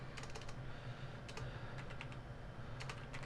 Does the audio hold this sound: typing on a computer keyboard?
yes